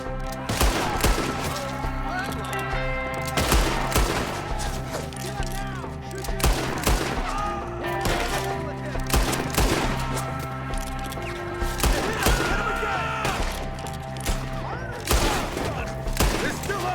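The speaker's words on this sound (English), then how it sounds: "Shoot the ones up there first!" Sustained gunfire in a Red Dead Redemption 2 shootout, with enemies perched high in a tree: dense, overlapping rifle and pistol shots crack continuously at close range, some sharp and loud, others rattling in rapid bursts over a steady backdrop of game music.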